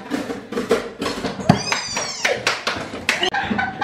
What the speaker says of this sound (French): Regarde le chat.